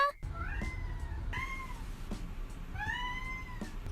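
Luigi, a cat with a shrill, baby-like voice, lets out several high, whiny meows in a row, close and clear with short gaps between them.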